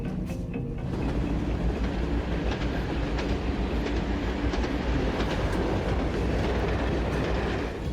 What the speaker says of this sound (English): we've got 76 wagons. So she's a pretty big train going back